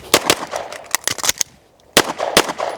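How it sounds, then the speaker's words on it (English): Pistol shots at an outdoor shooting range, including a custom-built 2011 handgun: sharp loud cracks in quick strings, several rapid bursts, a short pause, then more fast shots close by. "That gunshot, dude."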